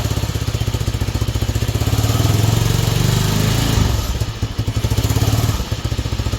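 Small Honda XL125S single-cylinder motorcycle engine revving up and easing back close by, a steady mechanical throb that swells in pitch and loudness mid-way, then drops toward a rough idle with faint clatter.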